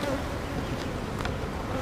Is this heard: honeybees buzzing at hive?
yes